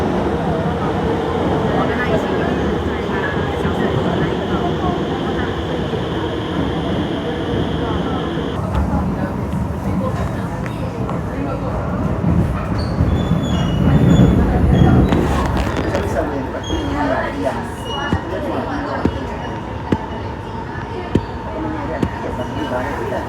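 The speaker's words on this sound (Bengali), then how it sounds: "এই ট্রেনে এয়ারপোর্ট যাবো।" A train heading to Singapore's airport, bound for Terminal 3, gives a steady close rumble throughout, with people talking over it and a few sharp clicks near the end.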